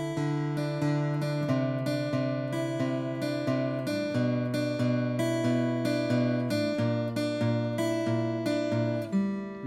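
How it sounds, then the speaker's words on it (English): Acoustic guitar plays a riff, strummed steadily with melody notes picked out on the up strums, a clear, even rhythm of ringing chords close up with no talking. "you could just play it like this, where you only get the melody notes with your up strum."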